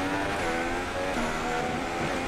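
Formula 1 race car engine at Hockenheim in the F1 2016 video game, a loud continuous high-revving whine that holds steady throughout with no talk.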